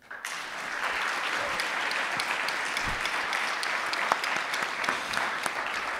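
Audience applause at a theatre evening in a culture house hall, a dense, even clapping that starts abruptly and carries on steadily at full strength for the whole stretch.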